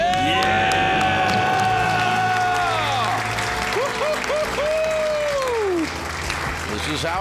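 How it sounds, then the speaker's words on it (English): A studio audience on a debt-payoff radio show erupts in loud cheering, screaming and applause, with voices shouting together through the whole stretch before settling slightly. "Let's hear a debt-free scream."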